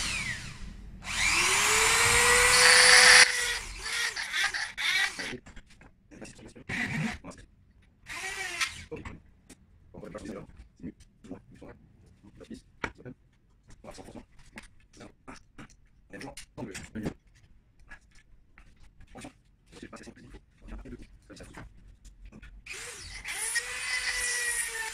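A drill bit bores into wood for a homemade wooden camera stock shaped like a rifle stock, giving a loud, high whine at the start and again at the end, with quieter bursts of grinding and clatter in between.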